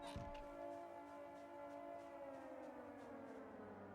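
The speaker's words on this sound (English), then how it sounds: "Noise of an air raid siren in the background." An air raid siren wails steadily in the background of a Project Zomboid scene in Louisville, a sustained drawn-out tone that slowly falls in pitch across a sparse, quiet soundscape.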